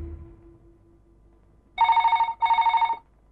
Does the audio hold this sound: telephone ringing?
yes